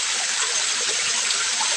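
Stream water rushes steadily and close by in a continuous, even wash with no pauses or voices.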